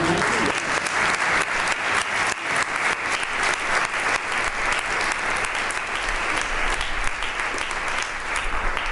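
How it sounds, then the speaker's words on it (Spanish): A crowd claps enthusiastically and steadily, a dense sustained round of applause filling the space. "dale un aplauso a Cristo"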